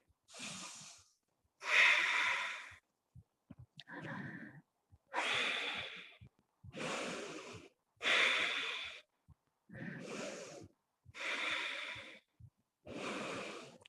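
Slow, deep breathing during a standing yoga balance, a steady series of about ten audible inhales and exhales through the nose, close and fairly loud with quiet pauses between breaths and no talking.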